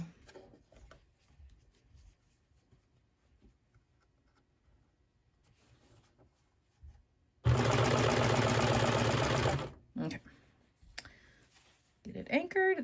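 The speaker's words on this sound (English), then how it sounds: "I'm just gonna sew a little bit here." A sewing machine stitches fabric in a single loud, fast, steady burst lasting about two seconds. It stands alone against a quiet room, with a few faint clicks and handling sounds before it and after it.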